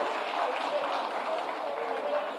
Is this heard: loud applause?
yes